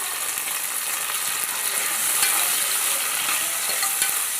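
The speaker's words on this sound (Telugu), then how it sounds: "ఇవి బాగా మెత్తంగా వేగిపోవాలి టమాటాలు మెత్తంగా అయిపోయి" Sliced tomatoes and a large onion frying in a pan, a steady, close hiss of sizzling oil with faint stirring scrapes running throughout, no voices.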